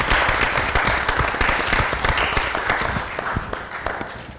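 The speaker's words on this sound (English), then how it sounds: "a round of applause for the council" Steady applause in a city council meeting room, many hands clapping together in a dense, even patter that slowly fades toward the end.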